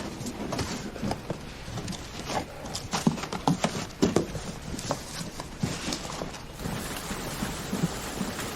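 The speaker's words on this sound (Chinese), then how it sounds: "哎呦，这个下雨了，我要不要给你们找个伞呀？" Rain falls outdoors, an irregular patter of drops striking surfaces with scattered sharper taps, moderately close and steady throughout, with no talk.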